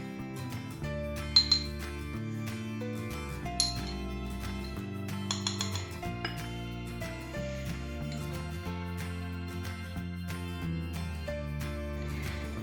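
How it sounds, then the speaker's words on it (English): White sugar and cocoa powder mixed in a bowl with a spoon, producing a few sparse, bright clinks against the bowl over steady background music. "you're going to mix 4 ounces of white sugar with 2 teaspoons of cocoa powder"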